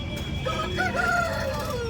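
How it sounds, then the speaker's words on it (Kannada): A rooster at a desi and breed chicken market in Chandapura lets out one drawn-out crow, nearby and clear over a busy market hum. "ಇಲ್ಲೊಂದು ಹುಂಜ ಇದೆ"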